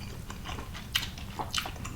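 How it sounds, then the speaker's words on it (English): Close, soft biting and chewing on tender Lao beef stew meat and tendon, a few moist smacks and squishes over quiet room tone. "Get a piece of that tendon in the meat. Here we go, the bite."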